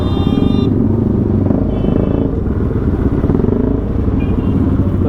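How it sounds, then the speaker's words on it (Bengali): Several Dominar 400 motorcycles ride past together on a crowded street, their engines making a loud, continuous rumbling roar close by with no break. "এতগুলো গাড়ি একসাথে যাচ্ছে, সবাই তো লুক দেবে।"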